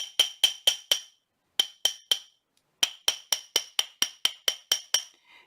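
Sharp metallic hammer taps on a wire ring band ring out in quick bursts, a few strikes, a pause, then a longer run of about ten steady blows, close and clear.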